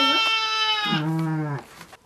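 Sheep in a flock of about 180 bleat in two drawn-out, wavering calls, close and clear, one pitched high and the next lower.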